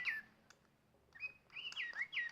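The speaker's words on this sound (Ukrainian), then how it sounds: "Дуже гарні мелодії в цієї пташечки." A Digi Birds toy bird plays a chirping, whistled melody of bright rising and falling tweets, faint at first, then a run of louder trilling notes close by.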